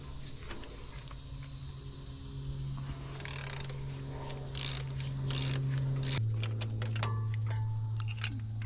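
A ratchet works loose a rusty tensioner on a Ford engine during a teardown, producing bursts of quick clicking and mechanical rattling close by, with a steady low hum underneath.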